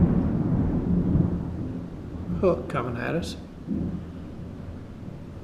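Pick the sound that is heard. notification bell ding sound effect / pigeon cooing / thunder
thunder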